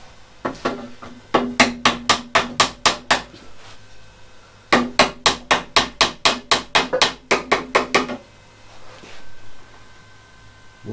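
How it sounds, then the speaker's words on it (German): Hammer blows drive a wooden dowel into a multiplex plywood workbench: two rapid bursts of sharp, evenly spaced taps, about eight then about ten strikes, close and clear, with quiet pauses between. "Ein bisschen mit dem Hammer nachhelfen."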